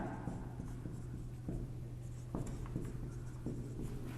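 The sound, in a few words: writing examples on a board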